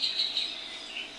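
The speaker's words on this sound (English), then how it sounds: "can you hear the birds in the back?" Birds sing in the morning with faint, high chirps and tweets at a distance, repeating in short bursts over quiet background.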